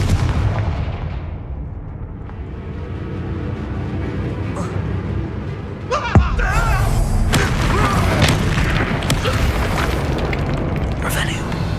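Booming fire-blast spell explosions from the Hogwarts Legacy video game, a loud burst near six seconds followed by repeated cracking blasts over a steady game backdrop, with a voice speaking over it.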